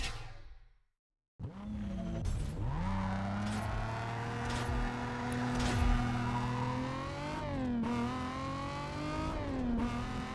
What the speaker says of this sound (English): It's an inline 6. Inline 6. It sounds exact same as the V6 from the 350Z.